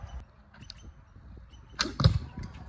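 A warbow shattering as it looses a heavy 1,410-grain arrow during an outdoor test against 15th-century chain mail armor: quiet handling noises, then a sudden loud, sharp crack and splintering clatter near the end.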